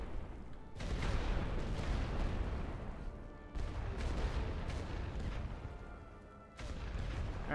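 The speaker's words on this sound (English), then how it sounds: "machine guns are still up" Heavy machine gun fire and artillery booms from The Great War: Western Front game, dense rolling bursts of rapid shots and explosions, loud and continuous with brief gaps between barrages.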